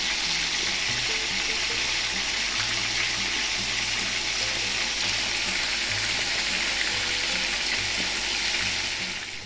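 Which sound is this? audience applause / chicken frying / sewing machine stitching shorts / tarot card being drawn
chicken frying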